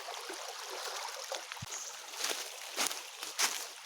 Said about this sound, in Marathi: ते पाणी आमच्या ह्या पिण्याच्या पाण्या टाकीकडे जाते ते बघा